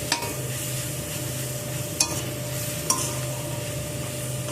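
Khesari greens with onion stalks fry in a pan with a steady, close sizzle, broken by a few sharp clinks of a spoon against the metal as they are stirred; no one speaks.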